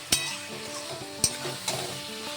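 Ginger, garlic and green chili paste stirred in a hot pan for a chicken dish, a low sizzle punctuated by three sharp clanks of the spoon against the metal.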